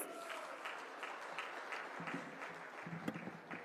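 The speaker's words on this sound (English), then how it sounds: "Let's hear it for a huge round of applause," Applause from the audience at the Digit Zero1 Awards 2025 tech awards show in India, a steady wash of many hands clapping at moderate distance that continues evenly, fairly quiet and slightly roomy.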